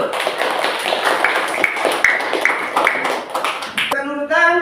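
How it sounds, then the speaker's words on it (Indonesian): A classroom group claps together for several seconds, a dense, close burst of many overlapping hand claps that ends abruptly, followed by a brief tonal sound. "Tepuk tangan kepada kelompok 1."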